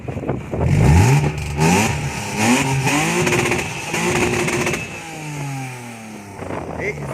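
BMW E28 528i engine revved in short bursts, loud and close, each blip rising and falling in pitch, with people talking in between.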